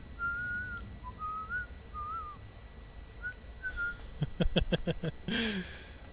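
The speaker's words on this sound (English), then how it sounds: "if you actually hold B, he does his little whistle thing from the movie" A character in LEGO Marvel's Avengers whistles a short, tuneful melody of clear sliding notes, followed by a burst of rapid percussive clicks and a brief rising vocal sound at the end.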